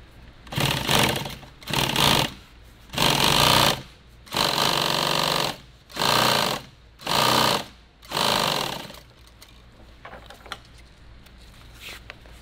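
A sewing machine stitches nylon tactical gear in seven loud, close bursts of rapid whirring, each lasting about a second with short pauses between them, followed by quiet handling sounds.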